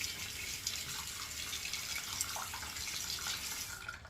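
Tap water runs steadily into a sink to rinse a Henson shaving razor, a faint continuous splashing stream with small drips and no voices.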